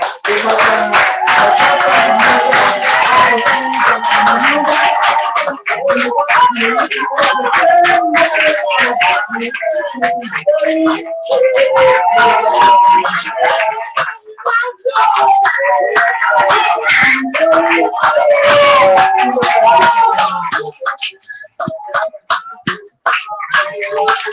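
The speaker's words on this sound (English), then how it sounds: "clapping section number 2 begins right now." An audience at a live anniversary celebration claps loudly and continuously for a clapping challenge, a dense rhythmic patter of many hands with cheers and voices mixed in, tapering off with a few scattered claps at the end.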